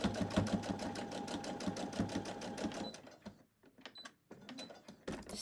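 Domestic sewing machine stitching fabric cuttings, a steady rapid mechanical whir for about three seconds, then stopping into quieter, intermittent clicks and handling sounds.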